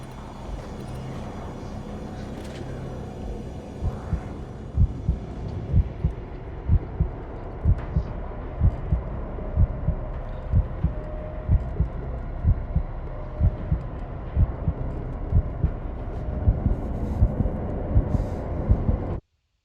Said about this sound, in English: loud heartbeat sound